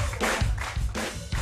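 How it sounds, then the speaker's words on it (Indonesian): A studio audience on an Indonesian TV talk show claps for an arriving guest, dense bursts of applause that swell and ease in quick waves, close and fairly loud. "kita beri tepuk tangan untuk Nini Karlina"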